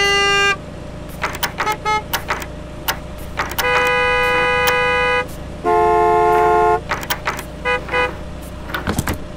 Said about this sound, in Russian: Сигналит он мне тут.